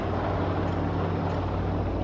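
Continuous droning hum of a flying drone in the game Voices of the Void, a steady broadband rumble with a low tonal buzz, loud and unbroken with no talk.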